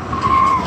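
A car's tires squeal sharply in a skid on a street at night, one short, loud screech that rises and fades within a second.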